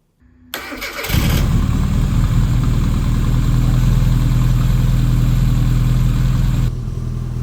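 A classic Mini car engine cranks briefly, catches and fires up, then settles into a loud, steady, rough idle close by before a small drop in level near the end.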